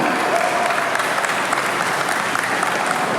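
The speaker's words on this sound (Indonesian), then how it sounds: "Beri tepuk tangan." An audience at a family finance workshop applauds steadily throughout, a dense wash of many hands clapping at even loudness with no single voice standing out.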